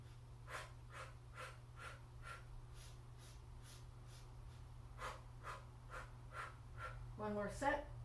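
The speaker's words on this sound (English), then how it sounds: "Inhale. Inhale. Exhale." Slow, even breaths recur in a regular rhythm during a beginner Pilates exercise, quiet and close, with a slightly louder, rougher breath near the end.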